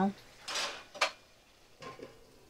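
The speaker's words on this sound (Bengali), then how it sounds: "এবারে দেখো আমি একটু কষিয়ে নিয়ে ঢাকা দিয়ে দেবো কিছুক্ষণের জন্য" A spoon scrapes and clinks inside a metal pot of new-potato curry, then a lid is set down with a sharp clank; a few close, distinct metallic knocks with quiet gaps between.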